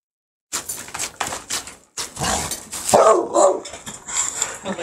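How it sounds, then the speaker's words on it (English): A pit bull barks in a rapid run of sharp, loud barks close by, mixed with yips and rough vocal bursts, with no one talking. "No more barking."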